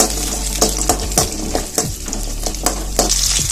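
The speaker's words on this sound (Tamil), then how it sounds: "ஒரு 10 பல் பூண்டு, ஒரு 10 சின்ன வெங்காயம் கொஞ்சம் வதங்கட்டும்" Ten garlic cloves and ten small shallots sautéing in a little oil make a loud, close, continuous sizzle, cut by sharp spatula scrapes and stirring clicks that repeat roughly every half second.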